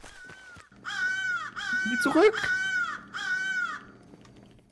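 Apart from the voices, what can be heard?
crow cawing in the video game Secret Neighbor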